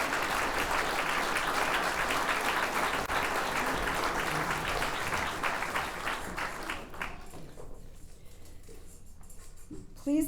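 Audience applause at a police department promotion ceremony, sustained dense clapping that fades away around seven seconds into near silence, with a faint murmur at the end.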